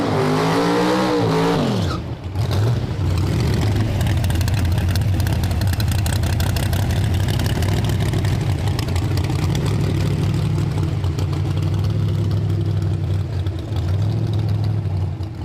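No-prep drag race cars in the tailgate finals, one of them running nitrous, rev hard and launch with a loud engine roar. The roar rises and then settles into a sustained, droning pull at close range.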